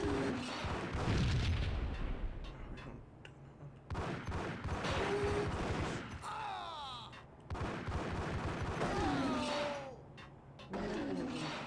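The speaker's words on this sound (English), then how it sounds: "Explosion." A loud explosion in the Max Payne video game bursts over sustained game noise, with rumbling low energy and further blasts or gunfire-like bursts around it.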